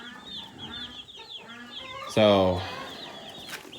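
Cornish cross meat chickens in a barn cluck and squawk in an agitated chorus, with one loud, harmonic squawk rising above the rest midway; a voice briefly speaks.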